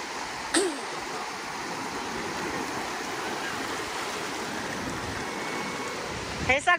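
Ocean waves wash onto a beach in a steady, rushing surf close by. Brief voices or shouts cut in near the start and at the very end.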